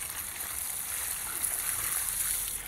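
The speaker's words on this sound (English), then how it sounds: "I'm going to bring it over here real quick and pour a little more water over it" Water poured over a waterproofed RC car, a continuous splashing trickle with a bright hissing edge, close and steady for the whole stretch without speech.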